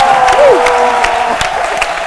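Studio audience clapping and cheering for a singing and dance troupe on a midday TV show, a bright spread of claps with a whoop near the start and a lingering tone beneath.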